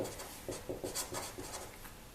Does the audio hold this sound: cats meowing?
no